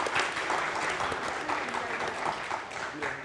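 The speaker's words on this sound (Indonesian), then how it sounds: "Berikan tepuk tangan kepada Bu Husnul dan Bang Taki." Audience at an Indonesian Wikimedia conference talk session applauds steadily for a few seconds, a dense, even clapping filling the room.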